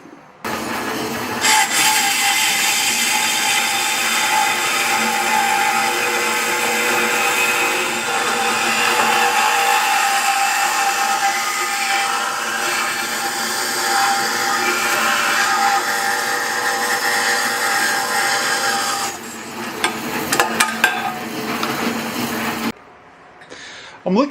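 A power tool cuts through motorcycle frame sections for a custom build, giving a loud, steady grinding whine that runs almost continuously for about twenty seconds before cutting off, with a few clanks near the end.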